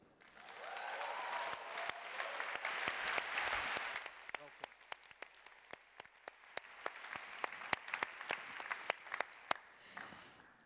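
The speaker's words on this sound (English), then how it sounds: "Give a huge cheer for former Australian cricket captain Steve Waugh" An audience at a plenary session of the One Young World Summit in Bangkok cheers and applauds for a former Australian cricket captain, loud mixed clapping and cheering that thins into scattered individual claps, then a voice begins speaking.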